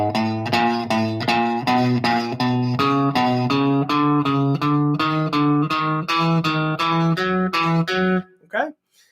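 An electric guitar plays the first two bars of a warm-up exercise: a steady run of about sixteen evenly picked single notes, loud and close. The last note is followed by a brief scrape and then quiet.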